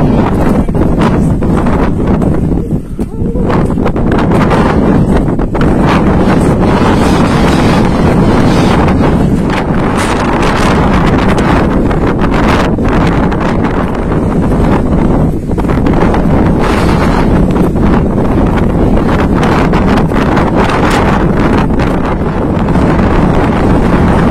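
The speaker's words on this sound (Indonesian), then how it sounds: "Harus merangkak lur, karena anginnya kenceng banget." Strong mountain wind roars continuously against the microphone high on the slopes of Mount Slamet, a loud, buffeting gale with gusty surges throughout and no talking.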